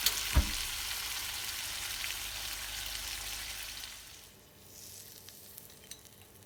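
Shrimp frying in a pan on a stovetop give a loud, close, steady sizzle with a stirring clatter near the start, then fade to a quieter crackle after about four seconds. No one speaks.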